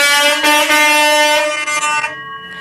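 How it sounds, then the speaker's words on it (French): A small motorcycle horn honks at the Roadstar 92 dealership in one loud, sustained, slightly wavering blast of about two and a half seconds that tapers off at the end. "il a bien fait sonner le petit klaxon en plus"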